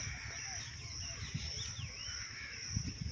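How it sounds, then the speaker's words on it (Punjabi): A crow caws a few times at middle distance over a low, steady rural background hum with faint insect-like buzzing, no talk present. "ਉਹ ਕਾਲੀ ਚਿੜੀ ਹੈ ਜੀ"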